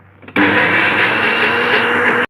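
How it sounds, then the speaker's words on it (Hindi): A motorized mixer grinder making a spice paste for mirchi ka salan starts abruptly and runs loud and steady, a dense whirring drone filling the short stretch after a quiet moment. "अब हम इनको इनके साथ ग्राइंड करके एक पेस्ट बना लेंगे"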